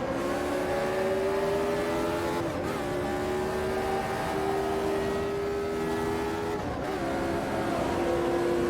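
A Lotus 79 racing car in Automobilista 2 howls continuously at high revs, its engine pitch briefly dropping and climbing again twice as it brakes into corners and powers back out.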